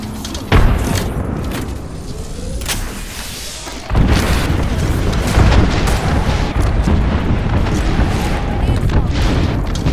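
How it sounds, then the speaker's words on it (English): Video game combat with a thermite charge, a frag grenade and an airstrike going off: a sharp boom near the start, another heavy blast around four seconds, then sustained rumbling explosions and crackle, with voices calling out over it. "Tossing thermite. Rockstar. Frag out. Signaling an airstrike."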